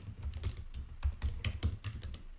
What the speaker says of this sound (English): typing as I'm talking